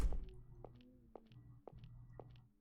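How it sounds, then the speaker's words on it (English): A dog gnaws on a chew toy nearby, giving a series of soft, evenly spaced crunching bites under a low steady room hum. "my dog is chewing on his toy"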